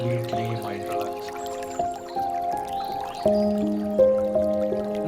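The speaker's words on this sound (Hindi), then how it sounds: "पानी बह रहा है" Crystal clear water flows steadily beside a river with small drips and gurgles, while a sustained, layered tonal drone runs underneath throughout.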